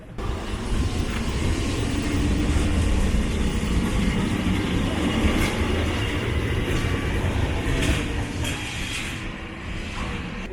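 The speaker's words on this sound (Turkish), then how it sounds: "o sırada Tramvay geliyor" A tram in Lisbon rumbles steadily along its rails nearby, a continuous low roll with faint metallic squeals and clacks layered over it.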